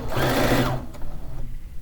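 A sewing machine runs in a fast, close burst while stitching quilt pieces for a fish quilt, then stops, leaving quieter handling sounds.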